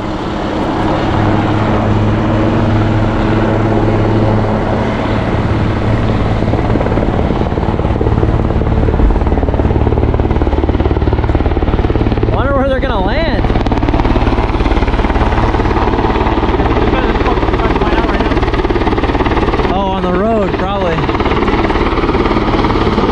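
Sheriff Air Rescue 5 helicopter coming in to land, a steady loud rotor thump and engine whine continuing throughout, with people talking over it.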